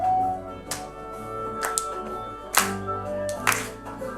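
A few sharp hand claps land on the beat of a children's winter and Christmas song, sparse and separate, over the steady singing and instrumental accompaniment.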